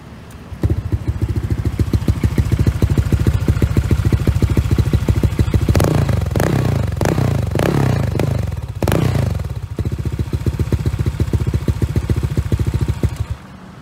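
A Honda Vario 125 scooter with a loud, raspy Taiga full-race exhaust idles steadily, then revs sharply several times before settling back to a rumbling idle.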